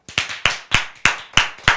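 A single pair of hands claps six times in a steady, evenly spaced rhythm, close and crisp, with nothing else heard between the claps.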